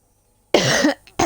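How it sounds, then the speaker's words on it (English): A single harsh cough bursts out close to the mic, followed by a brief quieter catch of breath and a second short cough, after a moment of silence. "I do apologise for my cough there"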